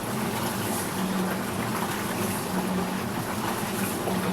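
Water sloshes steadily in a Laundry Pod hand-spun washer as clothes are turned through rinse water, a continuous close churning with a low hum and no talk.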